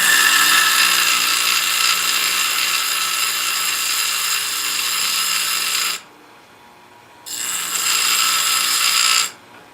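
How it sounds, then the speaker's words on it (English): A Stihl USG chainsaw chain grinder dresses its grinding wheel, giving a loud, steady high-pitched grinding whine that stops for about a second and then resumes briefly before cutting out. "Dress the wheel first."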